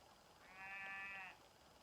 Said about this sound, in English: Full of the birds and the sheep with their little lambs that are